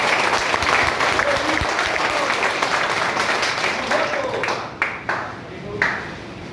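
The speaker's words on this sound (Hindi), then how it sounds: "शंकर सर के लिए एक जोरदार ताली।" Classroom audience gives a loud round of applause for a science teacher, dense steady clapping from many hands that thins out into a few scattered claps at the close.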